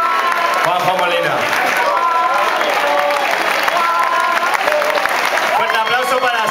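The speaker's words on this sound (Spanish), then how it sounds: "Fuerte aplauso para Eduardo Lario." Crowd applause and cheering at a tribute concert in a Barcelona venue, continuous clapping throughout with someone talking over it through the PA.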